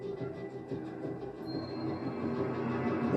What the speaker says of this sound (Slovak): Metro je na stanici.